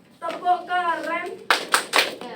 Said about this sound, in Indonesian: Anak-anak kita kasih tepuk keren terlebih dahulu ya untuk yang sudah presentasi di depan